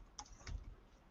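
A couple of quick, faint keystrokes on a computer keyboard while typing a Google search, with soft isolated clicks and no talking.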